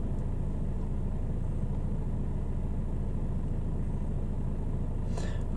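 A Mercedes E250 CDI diesel sedan engine idles in a steady, low, even rumble, heard close and continuous, with a brief faint click near the end.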